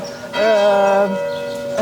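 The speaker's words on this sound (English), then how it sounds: "I love the church bells" Church bells ring out in the old town of Nyons, a sustained bright peal with rich overlapping tones swelling in after a brief pause and holding steady to the end.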